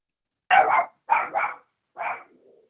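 A dog gives three loud, close barks, the first two doubled and the last shorter and trailing off, with near silence between them.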